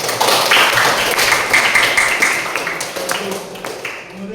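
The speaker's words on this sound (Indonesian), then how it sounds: "beri tepuk tangan dulu" A classroom of students claps together in a steady burst of applause that gradually fades toward the end.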